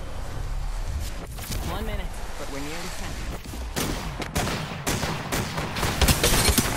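Gunfire in Apex Legends: scattered sharp shots rattling at intervals, some distant and some nearer, mixed with game effects and a player talking throughout.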